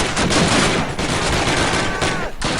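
Rapid gunfire in the Call of Duty video game, a dense continuous fusillade of close, loud shots with a brief dip near the end; a voice is faintly present in the mix.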